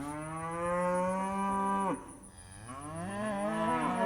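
Cows on a Missouri farm moo loudly and close by, one long call breaking off into a second rising, wavering moo, with no voices.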